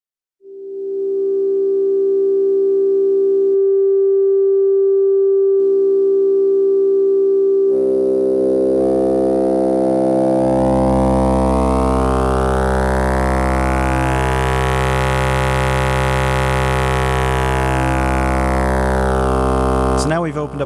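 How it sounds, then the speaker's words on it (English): An E330 multimode VCO starts as a pure steady tone with a short pitch change, then wavetable B modulates wavetable A's position and the tone turns bright and buzzy, its timbre sweeping up and back down as the modulation rises. "we're going to be using wavetable B to modulate the position of wavetable A"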